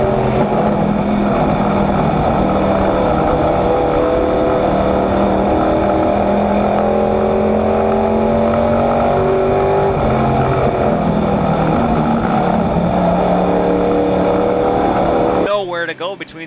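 Race cars roar around a track in a tight pack, their engines droning loud and continuous with rising and falling pitch as they pass, before cutting off near the end.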